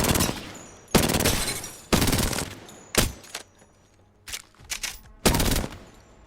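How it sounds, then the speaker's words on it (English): R99 submachine gun firing in the video game Apex Legends, several loud rapid-fire bursts of differing length separated by short pauses, close and dominant with no speech. "I've picked the R99 is my favourite submachine gun"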